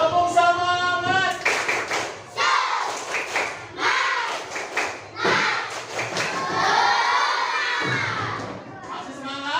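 Classroom group clapping in the Indonesian "tepuk semangat" chant during an academic supervision coaching session, rapid bursts of rhythmic claps mixed with children's shouts and cheering, loud and close.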